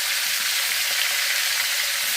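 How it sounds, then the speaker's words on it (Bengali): Pond-raised tilapia fish frying in a wok over a village clay stove, making a loud, dense, continuous sizzle and crackle throughout, with no voices. "মাছগুলোকে এখন কড়াইয়ের ভিতরে দিয়ে দিচ্ছি"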